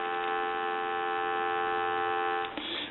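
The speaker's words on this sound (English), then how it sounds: "I'm going to give you some dial tone." Steady telephone dial tone from a Mickey Mouse novelty telephone under repair, a continuous buzzy hum that holds evenly for nearly three seconds before a brief click near the end.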